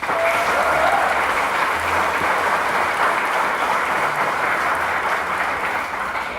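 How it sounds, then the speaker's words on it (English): An audience at a Martin Luther King, Jr. Commission event in Harrison, Arkansas gives a steady round of applause, dense and continuous clapping from a large crowd that holds at an even level throughout. "Please give them a round of applause."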